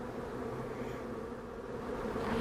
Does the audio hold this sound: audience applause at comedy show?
no